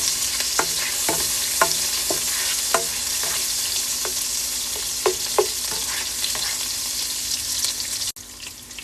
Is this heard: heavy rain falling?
no